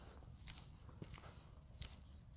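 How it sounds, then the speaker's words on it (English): Footsteps squelching through mud outdoors, a few soft wet treads at a slow walking pace, close by, with faint birdsong of skylarks high above and a low rumble of distant traffic underneath. "the sound of my footsteps on the mud, the sound of the squelching mud"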